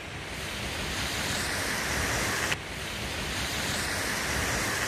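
A fast-flowing river rushes in a steady, broad roar, loud and continuous, with no voices.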